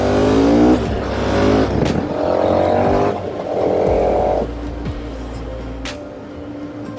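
A Vespa scooter goes by on a road in the volcanic Auvergne hills, its engine rising and falling with gear changes as it passes close by, alongside other traffic noise.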